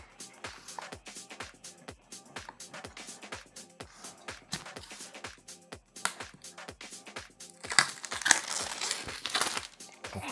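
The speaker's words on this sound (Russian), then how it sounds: "Блин, люблю пакетики открывать." A plastic packaging bag is crinkled and torn open while unboxing a DJI RS 2 Pro Combo camera stabilizer, giving a close, steady run of crisp crackles that grows louder and denser near the end.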